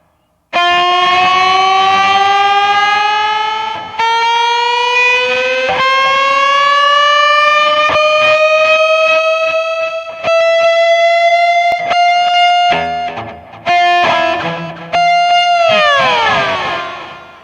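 Slide guitar played through heavy distortion, long sustained notes gliding slowly upward then dropping, loud and close, broken by short pauses and choppy restarts near the end, with no talk.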